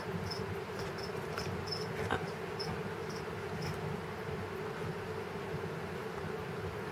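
Rapid cricket chirps pulse in short bursts over a steady hiss of background noise, fading out after the first few seconds.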